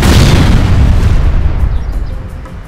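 A loud firework blast rumbles and booms, its deep roar filling the first seconds before slowly decaying into a fading crackle.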